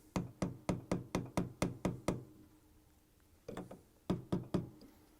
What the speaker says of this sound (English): I'm using a 3/4 inch socket head and a mallet to punch them on.